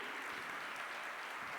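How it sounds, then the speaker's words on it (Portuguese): A church congregation claps steadily, a dense wash of applause that holds even throughout without pause. "Dê uma salva de palmas para Jesus."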